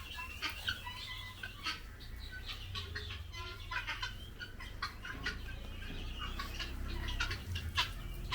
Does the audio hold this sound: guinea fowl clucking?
yes